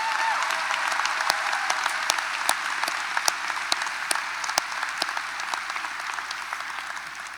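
A crowd at a high school graduation applauds steadily, a dense wash of clapping with a few sharper individual claps standing out, fading slightly toward the end.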